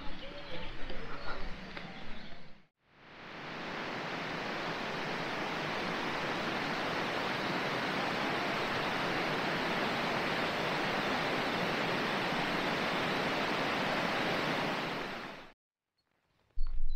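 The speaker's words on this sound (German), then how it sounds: "Oh, ich höre Wasser." Steady rushing water on a Dutch hiking trail near Almelo, a broad even roar like flowing water or a weir, with brief voices before it starts and after it stops.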